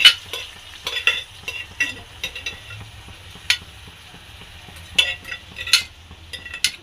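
Boiled mutton tossed into hot oil, a soft sizzle under sharp intermittent scraping and clanking of a spoon stirring the pan, strokes coming in irregular bursts.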